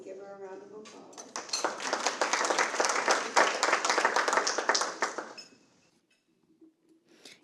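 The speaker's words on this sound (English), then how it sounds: "Please give her a round of applause." An audience at a luncheon forum on affordable housing breaks into a lively round of clapping that lasts about four seconds, then fades, with a voice speaking just before and faint clinks afterward.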